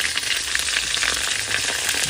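Potatoes and green chilies frying in hot oil, a dense, even close sizzle continuing steadily with no voices.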